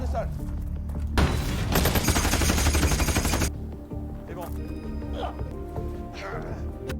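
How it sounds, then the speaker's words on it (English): A dense barrage of gunfire rattles loud and fast for a couple of seconds in an armed raid on a mining area, then gives way to a lower rumble with scattered clatter. "A powerful barrage of gunfire instantly cleared their path."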